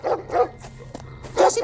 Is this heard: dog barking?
yes